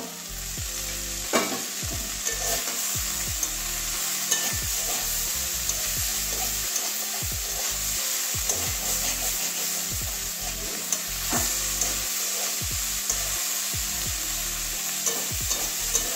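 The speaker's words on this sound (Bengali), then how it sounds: "আবারও 3-4 মিনিট ভাজবো। আবারও ঢাকনা খুলে নেব, আরও একবার নাড়িয়ে দেবো।" Cauliflower and onion fry in a pan, sizzling steadily throughout with repeated scraping strokes of stirring, close and fairly loud, no voices.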